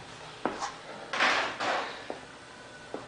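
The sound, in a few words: photocopier memory access cover pulled off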